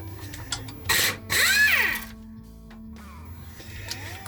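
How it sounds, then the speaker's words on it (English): Ratcheting wrench work on bolts of a KMG 2x72 belt grinder, close metallic clicking and clunking with a couple of louder grinding bursts early on, no one talking. "Looks like I'm wrenching these, damn it."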